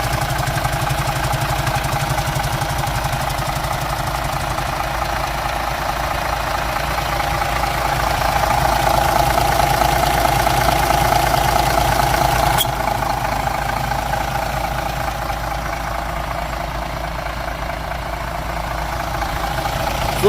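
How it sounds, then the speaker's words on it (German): Diesel engine of a MAN A21 city bus idling, a steady, loud, close rumble with an even knocking beat that holds throughout without revving. "Gibt nichts Schöneres als so einen schönen Dieselmotor"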